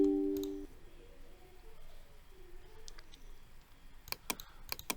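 A handful of computer keyboard keystrokes and clicks land near the end of a quiet stretch, sharp and close but soft, after a brief steady tone at the start.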